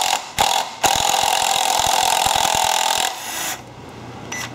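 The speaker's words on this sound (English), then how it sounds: "this is a little quarter inch impact gun, cordless, and that impacting action should loosen it" A cordless quarter-inch impact gun loosening a fitting hammers in a rapid, loud burst of about two seconds. Short whirring starts come before it, and the burst trails off into quieter mechanical noise.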